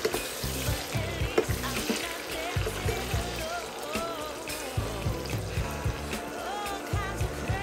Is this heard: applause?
no